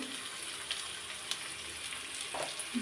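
Potatoes fry in a pan with salt and turmeric for a bitter gourd stir-fry, giving a steady close sizzling hiss with a few light clicks of stirring.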